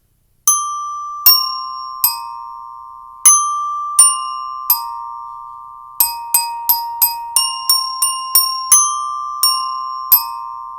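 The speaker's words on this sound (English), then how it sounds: "So it'll sound like this" Bells ring out the tune Hot Cross Buns as a series of clear, single struck notes, each one left to ring on and decay into the next, played at a moderate, even pace with no talking.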